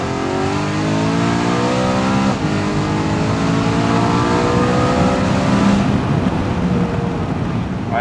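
A BMW M3 E92 with DKG gearbox accelerates hard in second gear, its engine note climbing steadily in pitch as revs rise, loud and close from inside the car, then easing off near the end.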